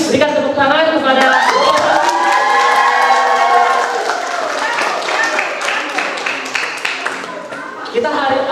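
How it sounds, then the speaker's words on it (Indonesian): An audience at a videography lecture breaks into loud applause mixed with cheering and shouts, a dense, close crowd roar with rapid clapping that thins out toward the end. "sekali lagi berikan tepuk tangan"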